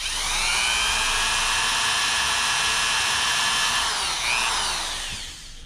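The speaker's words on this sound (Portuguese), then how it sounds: "Vai fazer dois furos aqui, não importa a distância." High-pitched electric drill whine boring small holes for a brush cutter throttle cable end, loud and close, held steadily for about five seconds before winding down.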